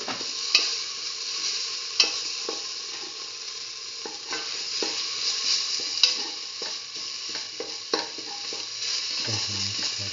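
Chili ginger garlic paste sizzles steadily in hot oil for a mung bean and ash gourd stew, with occasional sharp scrapes and taps of a spoon stirring it in the pan.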